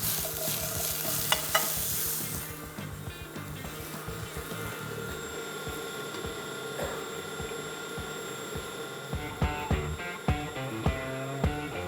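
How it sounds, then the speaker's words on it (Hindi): Dough being mixed in a bowl as flour is gradually added, heard as a steady, close stirring and scraping over a constant mechanical hum, with scattered knocks toward the end and no speech. "अभी देखिए ये मिक्स होने लग गया ना, इसमें थोड़ा थोड़ा करके मैदा डालना शुरू कर दूँगी"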